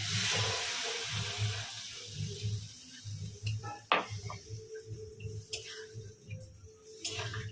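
Prawn curry with potatoes hisses and sizzles in a pan as water is added, a steady frying crackle with a pulsing low rumble and occasional sharp clinks of a utensil against the pan.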